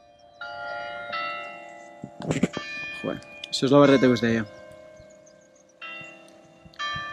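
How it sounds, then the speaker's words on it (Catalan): Church bells at Núria ring out in bright, sustained tones that start and stop in phrases, with a person talking in the middle. "amb les campanes."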